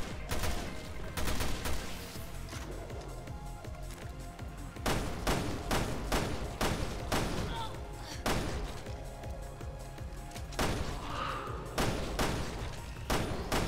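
A heavy-recoil gun fired in the game Resident Evil: Revelations 2, with loud booming shots in irregular bursts, some in quick succession, over a low game ambience and with no talking.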